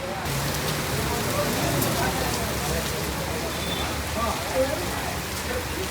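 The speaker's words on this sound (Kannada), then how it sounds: "ಮತ್ತೆ ಮಳೆ ಬರತ್ತೈತಿ" Steady rain pours down in a dense continuous hiss, loud and close, with faint voices underneath.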